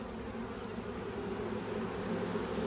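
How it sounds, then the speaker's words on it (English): Honey bees around a hive make a dense, steady buzzing drone, close and continuous, with no talking. "Ooh, they're kind of buzzing around."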